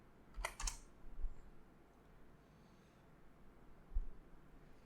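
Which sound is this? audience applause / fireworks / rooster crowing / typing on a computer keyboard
typing on a computer keyboard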